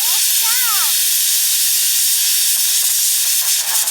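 A pressure cooker of mutton lets off steam: a loud, steady hiss that fills the clip, with a brief warbling whistle tone near the start.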